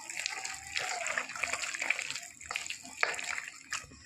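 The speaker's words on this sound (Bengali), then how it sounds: "আর একটু জলের পরিমাণ দিয়ে দেবো" Water is poured into flour while mixing paratha dough, a continuous trickling, splashing stream close by with soft kitchen handling noises and no talking.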